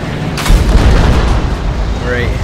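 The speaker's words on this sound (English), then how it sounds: "Yeah, mortar." A mortar round explodes in the video game Battlefield Hardline, a loud deep boom with a rumbling tail lasting a couple of seconds, close and heavy, with no talk over it.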